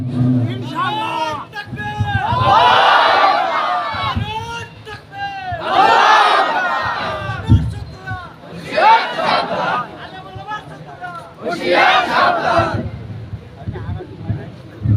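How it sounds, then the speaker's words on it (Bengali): A large crowd at an open-ground rally chants slogans in loud, rhythmic waves, rising and falling roughly every few seconds, with a lead voice calling out between the massed responses. "আরেকটা স্লোগান দেন আগের মতো করে, একটু মাঠটাকে আবার উত্তাল করে দিতে চাই"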